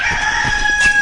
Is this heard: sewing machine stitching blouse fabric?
no